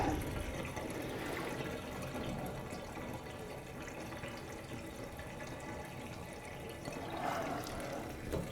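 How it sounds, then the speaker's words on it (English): Water draining out of a stamp soaking tub, a steady close trickle and gurgle that runs continuously and fairly quietly, with no talking. "So I'm just going to let a bit of water out."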